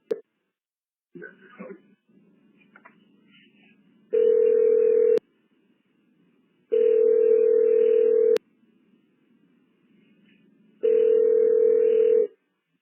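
An automated phone greeting on a business line ends in three long, steady, loud voicemail-style beeps, each lasting about a second, separated by quiet gaps with faint line noise and brief bits of recorded voice.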